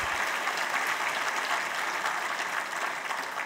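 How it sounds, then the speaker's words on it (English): Steady audience applause fills a conference hall after an energetic talk at a national security forum, dense continuous clapping at even loudness throughout without voices. "Let's give another round of applause"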